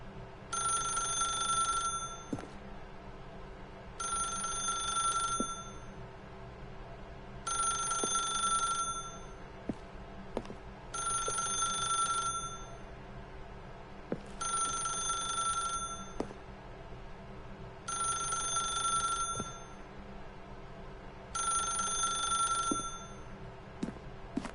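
Telephone bell ringing in The Stanley Parable video game, seven regular rings separated by short pauses, clear and steady over a low ambient hum.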